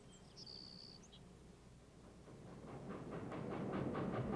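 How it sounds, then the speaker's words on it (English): A train rumbles closer as it crosses the Bug River on June 22, 1941, its rhythmic clatter building steadily, with a bird chirping briefly near the start. "A train from the east chugs across the Bug River"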